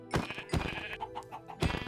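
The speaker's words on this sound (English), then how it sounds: "here's some sheep" Sheep bleating in the Minecraft 1.20.1 video game, several short nasal bleats repeating in quick succession, fairly close and clear with no talking over them.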